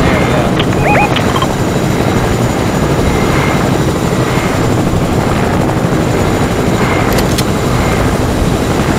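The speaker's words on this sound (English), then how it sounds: "Another helicopter, wait." Helicopter from a trickshot shooter video game, a steady broadband rotor and engine roar filling the scene at constant loudness, with brief chirpy game effects on top.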